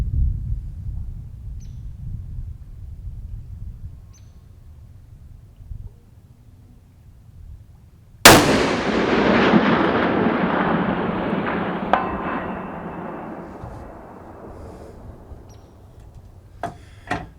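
A muzzle loader rifle fires a single loud shot with a sharp onset, followed by a long rolling echo that slowly decays across open ground during long-range shooting at a 1,000-yard target; any distant bullet impact is not clearly separable.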